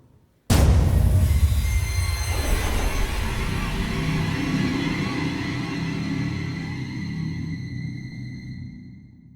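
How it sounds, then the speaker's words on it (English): A horror music sting made for Alien: Isolation sound design hits suddenly with a loud metallic impact, then a dissonant, screeching tonal swell rings out over a deep rumble and slowly fades. "This is what my sting sounds like."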